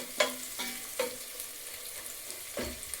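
Onions frying in a pan for tomato rice, a quiet sizzle with a few distinct stirring scrapes near the start and end, with no talk.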